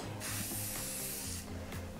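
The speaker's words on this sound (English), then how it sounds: "Start spraying, go across your project, stop spraying." A spray paint can hisses in broad bursts as it passes across a project, several short sprays with brief pauses between, close and fairly loud.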